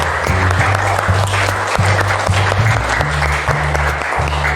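Students clapping together in a classroom make a dense, continuous burst of applause that lasts several seconds, with a steady low hum underneath and no one speaking.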